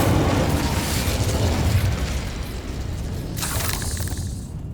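A fire spell cast in Hogwarts Legacy bursts with a loud, sustained whooshing roar of flames, rumbling low and steady for several seconds before a brighter crackle near the end.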